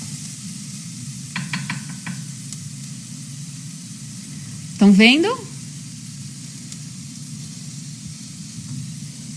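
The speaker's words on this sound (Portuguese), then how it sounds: "tenho só um refogadinho da cebola" Chopped onion sautés in a pan over lowered heat for a vegan recipe, giving a steady close sizzle throughout, broken by a brief stir and a short spoken question.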